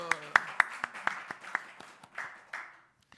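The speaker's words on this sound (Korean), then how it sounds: "박수." A congregation at a Wednesday service at Miryang Methodist Church claps in a quick, fairly quiet series of about a dozen sharp claps that slow and fade, with voices briefly audible at the start.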